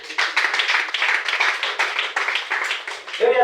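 A church congregation claps together in praise of the Lord, a dense, steady run of close, loud handclaps with no talk over it, ending on a brief voice.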